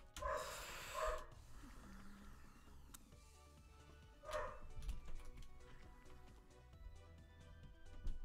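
Amstel, a household dog, lets out two or three separate barks spaced a few seconds apart, fairly close, with a quiet room and faint background sounds between them.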